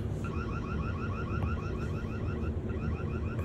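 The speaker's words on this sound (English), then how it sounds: "It's got a siren if you need to trigger an alarm." Loud electronic siren from a security camera with rapid repeating warbling tones, cycling several times per second over a steady noisy background, no talking.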